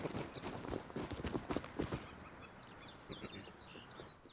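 Horse hooves clopping fast for a couple of seconds in the video game Rust, then fading away, leaving birds chirping faintly in the background.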